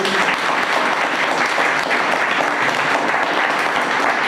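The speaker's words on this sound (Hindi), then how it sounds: "हमारे नए भाई के लिए जोरदार एक बार ताली बजाएंगे और उनके स्वागत करेंगे" A church congregation at a Sunday service applauds to welcome a new member: dense, loud, continuous clapping from many people that holds steady throughout, with no talk over it.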